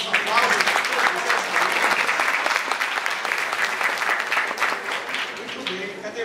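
An audience at the opening ceremony of an academic history conference gives a professor a continuous burst of applause, dense and loud, with a few voices mixed into the clapping.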